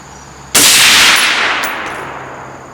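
A single loud crack from a 6.5 Creedmoor AR-10 rifle during a group-shooting accuracy test, followed by a long, slowly fading echo, with no talk.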